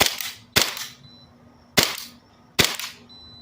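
Four loud, snappy shots ring out close by from a Staccato Perfect 11 airsoft gas pistol firing BBs. The first two come in quick succession and the last two are spaced about a second apart, each with a brief decaying tail.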